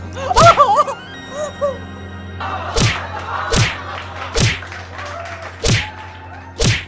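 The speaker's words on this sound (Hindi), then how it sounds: "नहीं पापा, मम्मी को मत मारो" A man strikes a woman in a Hindi family drama scene, with loud thudding slaps landing at a steady rhythm about a second apart, and brief crying and whimpering voices at the start.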